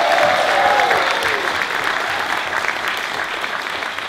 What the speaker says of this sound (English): So one more big clap